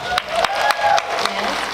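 Conference audience clapping in a hall at an early childhood education leadership event, a brief burst of scattered applause rising and settling with crowd murmur.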